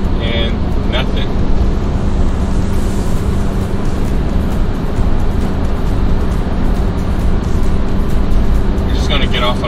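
A car cruising on the freeway, with a dense, continuous roar of road and engine noise at high level throughout, and a few faint higher clicks near the start and end.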